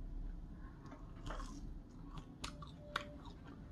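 A baked curly fry dipped in buffalo wing sauce is chewed close up, with soft wet bites and crunches in an irregular rhythm and no talking.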